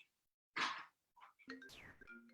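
A mobile phone rings in the middle of a talk on community protective factors for kids, giving a short burst and then a couple of tonal electronic ringtone notes with faint noise between.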